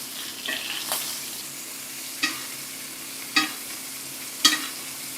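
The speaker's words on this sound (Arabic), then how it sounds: "وانا بشوح او بحمر في اخر جنب ههدي النار وهنزل بحته زبده، كام فص توم، عودين روزماري" A beef steak sizzles steadily in a pan with butter, garlic and rosemary, a close, even hiss broken by three or four sharp spatters or basting clinks.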